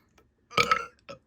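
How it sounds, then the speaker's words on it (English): A single short burp from a person indoors, a throaty croak lasting about half a second with a small trailing hiccup after it, close and clear against silence. "burp"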